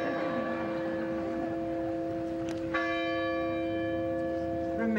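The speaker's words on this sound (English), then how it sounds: "Let us listen to the bells." Church bells pealing at an outdoor graduation ceremony in Exeter, New Hampshire, with sustained ringing tones and fresh strikes layered over lingering resonance, loud and continuous without talk.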